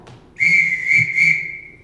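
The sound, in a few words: whistle signal calling the children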